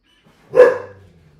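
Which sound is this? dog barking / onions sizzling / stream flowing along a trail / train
dog barking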